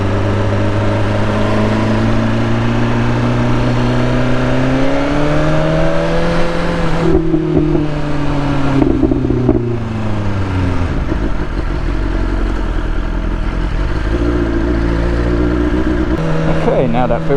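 Motorcycle filtering past a lorry and a Range Rover in traffic, its engine droning loud and close with a rising then falling pitch as it accelerates and eases off, wind noise throughout.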